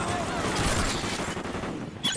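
Dense burst of gunfire from a sentry gun in Call of Duty Vanguard, loud and continuous for a couple of seconds, with game voices over it.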